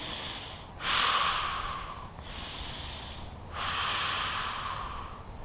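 Slow, deep breaths during a bedtime yoga stretch, two long airy inhale-exhale swells close to the microphone over faint background hiss, with no talking.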